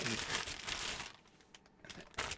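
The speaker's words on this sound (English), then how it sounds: "What we do with bags, we crumple one up" A plastic comic book bag is crumpled by hand, giving a burst of crinkling for about a second, then quieter rustles and a short crackle at the end.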